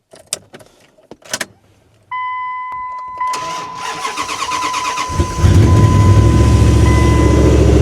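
An old truck cranks over after a few clicks and clatters, then its engine catches and runs loud and close with a steady rumble that builds in the last seconds.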